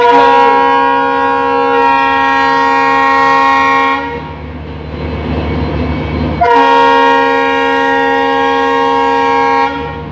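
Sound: Vivek Superfast Express train passing

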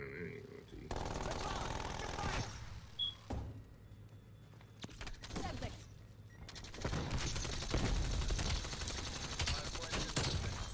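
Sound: AK rifle firing in Call of Duty Cold War video game

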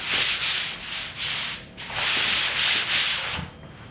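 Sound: hands rubbing over a model airplane surface

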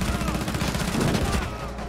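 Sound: gunshots in video game Rainbow Six Siege

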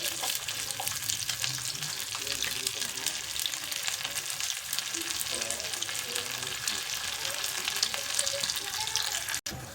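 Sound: tempering of ginger and green chilies frying in oil

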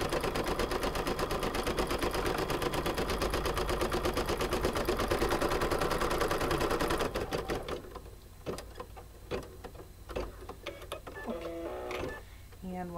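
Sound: embroidery machine stitching the placement line

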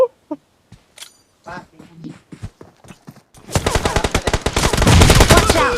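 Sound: gunfire in PUBG Mobile video game

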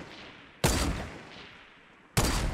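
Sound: gunfire in Fortnite video game

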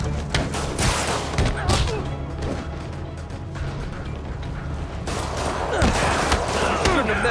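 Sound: rockets firing, from the video game Marvel's Spider-Man

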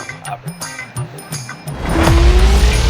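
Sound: vehicle being driven on a road

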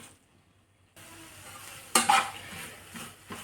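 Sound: stirring spices in a frying pan

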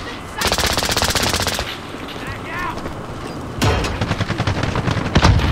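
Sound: Origin 12 shotgun gunfire in Call of Duty Modern Warfare video game

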